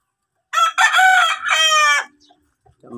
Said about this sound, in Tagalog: Yung mga mga matataas na klaseng mga manok.